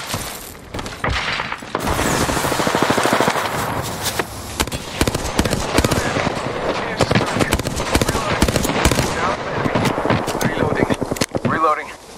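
Sustained video game gunfire, rapid bursts and repeated sharp shots crackling over twelve seconds, loud and dense with brief pauses between volleys, with a voice speaking intermittently underneath.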